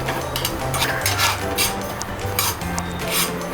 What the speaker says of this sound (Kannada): ಇದನ್ನು ಸ್ವಲ್ಪ ಮೀಡಿಯಂ ಫ್ಲೇಮಲ್ಲಿ ಇಟ್ಕೊಂಡು ಫ್ರೈ ಮಾಡ್ಕೋಬೇಕು.